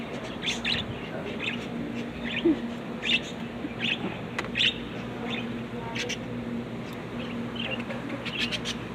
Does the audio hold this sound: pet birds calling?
yes